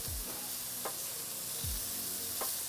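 Eggs frying over high heat in a hot pan, with a constant bright sizzle broken by a few soft knocks and scrapes of a spatula, close and clear with no talking.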